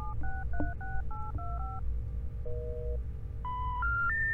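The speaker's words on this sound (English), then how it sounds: "placing a phone call." Telephone keypad tones in the Serious Sam video game, a quick run of about nine dialing beeps followed by a held tone and three rising notes like a disconnected-number signal, clear over a low steady game hum.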